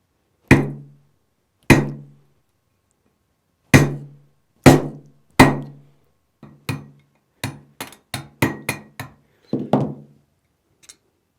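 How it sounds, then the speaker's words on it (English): Sharp metallic hammer blows drive an old bushing out of a 4L60E automatic transmission, first several spaced heavy strikes, then a quicker run of lighter taps, close and loud with no talking. "Collapse and drive the old bushing out."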